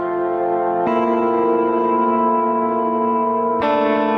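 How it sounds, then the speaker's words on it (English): A sustained, droning tone from a song recording washed in heavy reverb, its tail smearing into a dense wall of sound, with a brighter chord swelling in near the end. "I need to greatly reduce that absurd reverb"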